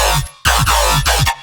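Serum synth growl bass with pitch bend of plus and minus two semitones and a changing LFO rate, a loud gritty wobbling tone with rising and falling pitch sweeps in several rhythmic pulses and a brief gap.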